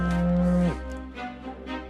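A cow in a Normandy pasture gives one long, loud, deep moo that breaks off, followed by fainter lowing and rustling nearby.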